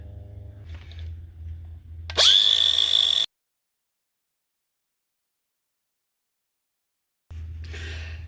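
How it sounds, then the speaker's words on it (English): An angle grinder cuts off a hose bib pipe. A quiet motor hum rises into about a second of loud, high metallic whine, then cuts to silence before the hum returns. "I'm going to go ahead and cut it off with the grinder"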